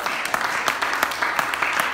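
Congregation clapping hands during worship at a Pentecostal church service, a steady rhythmic run of sharp claps at a lively tempo, close and fairly loud, filling the whole short stretch.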